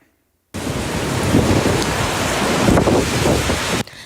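Typhoon Ragasa's wind and rain lash Lanyu island off Taiwan, a loud, dense roar of downpour and gusting wind that starts abruptly and holds steady for several seconds before cutting off, with no voices.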